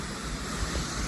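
Waterfall at a town's drinking-water reservoir, a steady broadband rush of falling water with low rumble, continuous and fairly distant under wind.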